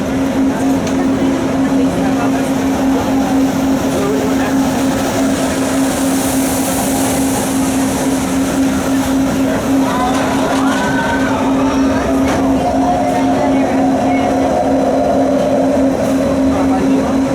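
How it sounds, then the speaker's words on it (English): A Disney monorail glides past Fantasyland with a steady electric hum and rolling rumble, constant and fairly loud, with faint crowd noise and talk underneath. "Please remain seated until the monorail comes to a complete stop"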